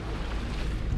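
A sailboat motoring under engine in calm conditions at sea between Bermuda and the Azores produces a constant broadband drone of engine, wind and water rush, loud and unbroken.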